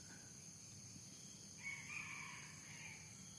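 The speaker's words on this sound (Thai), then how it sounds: "ไก่ป่าตีไก่ต่อตีปี" A single faint crow from a red junglefowl sounds midway, distant and thin over a constant drone of insects.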